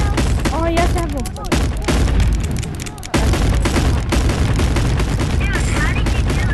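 A gun fires nonstop in the VR game Animal Company, a dense, loud barrage of shots with booms mixed in, while excited voices talk over it.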